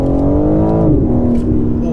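A 2023 BMW M4 Competition xDrive accelerates hard, its exhaust droning steadily with a rising then levelling engine tone, heard loudly from inside the cabin, with a brief exclamation from the driver.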